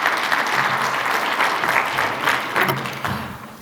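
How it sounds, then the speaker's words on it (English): Sustained audience applause fills a keynote hall at a minority women in business seminar and expo, a dense steady wash of clapping hands that holds for a few seconds before thinning slightly at the end. "let's give her a big round of applause."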